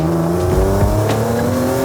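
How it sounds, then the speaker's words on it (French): A tuned, carbon-bodied BMW M4 with a supercharger accelerates hard, its loud steady engine drone carrying a sustained whine from close inside the car, broken briefly by a few thumps. "On entend à mort le bruit du compresseur."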